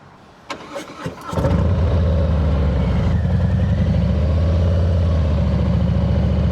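A Kawasaki motorcycle cranks with a few clicks and a starter whir, then fires up and settles into a steady, close rumbling idle with no voices over it.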